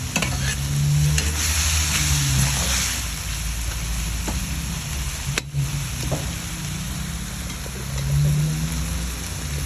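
Pork sizzling as it fries in a Salad Master casserole pan, a steady close crackle with occasional stirring and scraping throughout, no voices.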